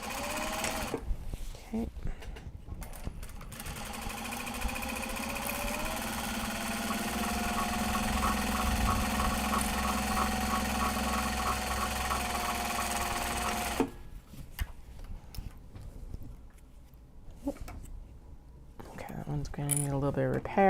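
A sewing machine stitching Japanese fabric bags, running in a long continuous buzzing whir close by for about twelve seconds, then stopping and starting in short bursts amid handling noise, with a brief spoken word.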